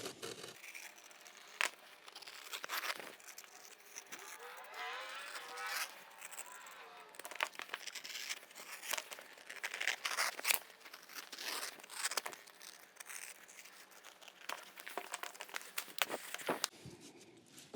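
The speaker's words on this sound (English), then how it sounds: "And we'll just cut those out with a blade." A blade cutting out leather pieces for a phone wallet, a close series of scratchy, crinkling cuts and scrapes in irregular strokes, quiet, with a voice speaking partway through.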